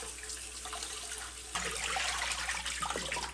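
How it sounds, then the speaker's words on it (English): A kitchen tap running over beef meat and bones being rinsed for pho, a soft steady stream that turns louder and splashier partway through, close and alone. "Discard this water and rinse the meat and bone thoroughly."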